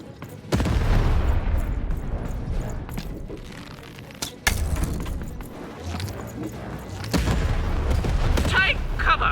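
Cannon fire in a video game, heard as a run of heavy booms and blasts, with a sharp loud burst near the middle over steady battle noise.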